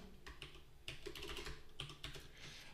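Quick, irregular keystrokes on a computer keyboard while code is being typed, close and clear, with short pauses between bursts of clicks and no talking.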